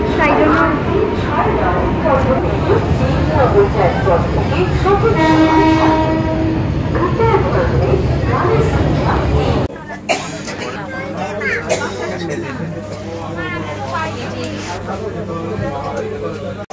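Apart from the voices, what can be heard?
train arriving at Memari station, Main Line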